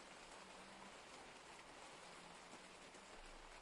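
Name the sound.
rain falling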